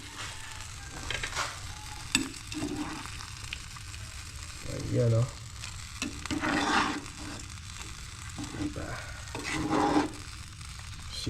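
A pot of sinigang soup sizzles and bubbles steadily at a boil with occasional scraping stir sounds, close by, and a voice speaks briefly.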